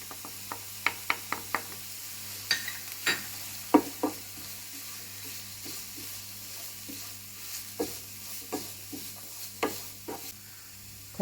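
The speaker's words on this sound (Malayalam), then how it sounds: "ഈ തേങ്ങയും സവാളയും കൂടി നന്നായിട്ടൊന്ന് വഴറ്റാം." Onion and grated coconut being sautéed in coconut oil for a bitter gourd masala curry: a low steady sizzle under a string of sharp spoon-against-pan scrapes and taps, close by with no talking.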